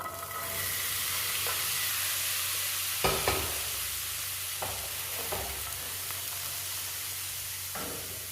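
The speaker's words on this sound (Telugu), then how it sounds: "ఉడికించుకున్న పల్లీలన్నీ వేసుకొని కలుపుకోవాలి." Boiled peanuts are stirred and mixed through fried green chillies in a pan with the stove off. A low sizzle runs underneath, and a spoon scrapes and clanks against the pan several times.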